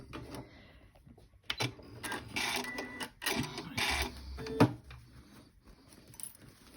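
Home sewing machine backstitching seams on a lined lace-zipper pouch, a close, quiet mechanical whir in short bursts with pauses, clicks and handling noises between runs.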